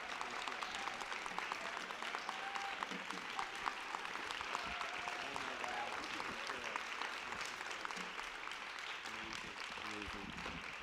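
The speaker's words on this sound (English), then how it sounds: "Let's give him a great round of applause." An audience at an AAPMD collaboration event applauds Dr. Zaghi with continuous, fairly distant clapping, while voices talk faintly underneath throughout.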